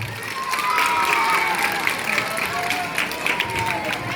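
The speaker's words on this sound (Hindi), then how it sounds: "ऑडियंस के लिए एक जोरदार ताली।" Audience at a school social science quiz breaking into loud applause and cheering, a continuous crowd roar with clapping throughout and some voices mixed in.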